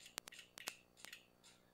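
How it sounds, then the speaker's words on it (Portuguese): Several faint, crisp key clicks from an Omega MSX computer keyboard tap out in a quick, uneven sequence. "E agora vamos ver se o clique do teclado vai."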